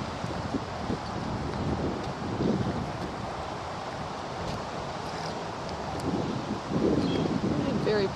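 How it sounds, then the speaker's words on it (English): Blustery wind sweeps through a quiet New Orleans park on a cool day, a continuous rushing buffet with gusts swelling louder toward the end, low and rumbling against the microphone. "It's a cool and blustery day here in New Orleans, rare for this time of year."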